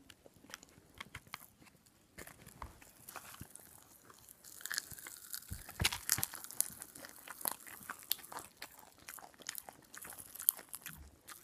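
Sour candy is crunched and chewed close up, with irregular crisp bites and wet chewing that grow busier after the first few seconds, and no talking.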